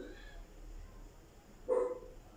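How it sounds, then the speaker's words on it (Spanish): A dog barks once in a hallway with an odd, strained tone, a single short burst standing out against quiet room noise. "Si oís un ladrido un poco raro, es mi perro que no le gusta que se acerque la gente al pasillo."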